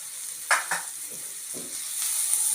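Onions sizzling in a pan as turmeric goes in, a steady frying hiss with two brief louder scrapes of stirring near the start and softer spoon contact later, close and alone.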